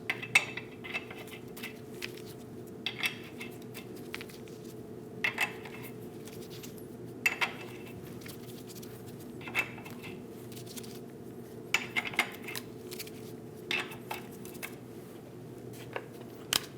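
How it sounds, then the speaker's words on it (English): Lug nuts are threaded by hand onto a wheel of a 2001-2006 Chevrolet Silverado 2500 HD, giving light metallic clinks and taps that recur irregularly over a low steady background hum. "Install all the lug nuts."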